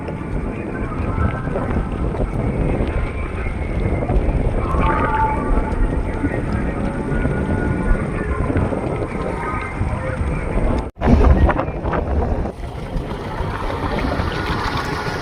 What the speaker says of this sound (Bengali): এই এটা হচ্ছে লঞ্চ।